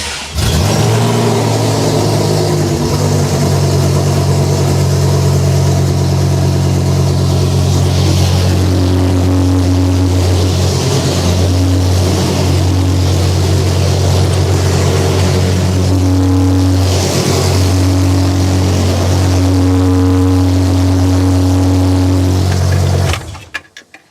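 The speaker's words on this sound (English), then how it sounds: "It is time to start the engine." A Lamborghini V10 engine, fitted into a Volvo and under repair, starts up and keeps running steadily at a loud, close idle with a few revs, then cuts off at the end.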